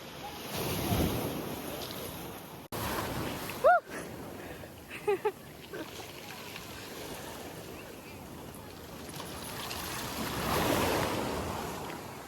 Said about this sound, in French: C'est très dangereux les vagues.